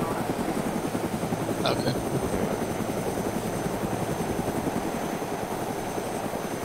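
A helicopter flying in the video game DayZ makes a steady, loud rotor chop throughout, with a brief voice speaking over it.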